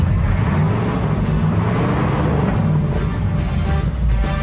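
A Cadillac 331 cubic inch V8 engine rumbling, close and loud, with a steady low throb and slight swells, heard alone.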